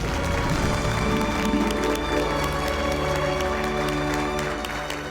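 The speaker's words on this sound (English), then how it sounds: "A round of applause for Father Coughlin." An audience applauds at a gathering with clapping and some cheering, layered over steady music and lasting several seconds before tapering slightly.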